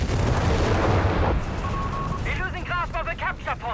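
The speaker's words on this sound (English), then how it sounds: "Mortar there wiped out by German artillery fire here" German artillery fire in Company of Heroes 3 wiping out a mortar team, a dense, booming rumble of impacts for about a second before a voice starts talking.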